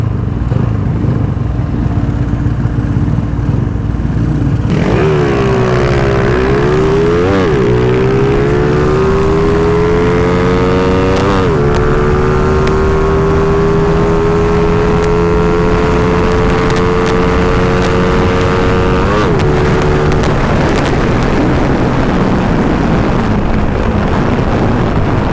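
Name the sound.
Toyota Supra car engine passing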